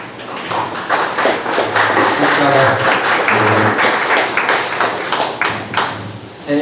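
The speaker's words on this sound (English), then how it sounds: "if you all could stand up and give a round of applause for him" An audience applauds a speaker being welcomed onto the stage at a morning startup pitch event, steady clapping from many hands, loud and close, lasting several seconds and tapering slightly at the end.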